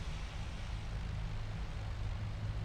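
A de Havilland Mosquito, the World War II twin-engine aircraft, runs its engines in the DCS flight simulator game, giving a steady low drone that stays even and fairly quiet throughout, with no speech.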